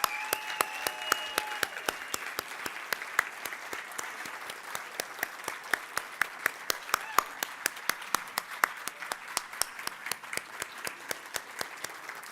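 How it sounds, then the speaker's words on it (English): Applause for the mayor at the Palm Springs State of the City 2023 event, a long run of crowd clapping with sharp individual claps standing out near the mic, holding steady throughout. "One more round of applause for Mayor Grace Garner."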